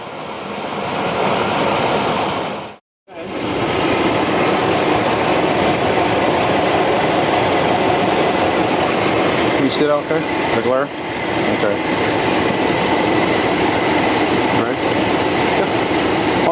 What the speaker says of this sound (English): we have the engine running.